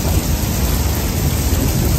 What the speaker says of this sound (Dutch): Het onweert.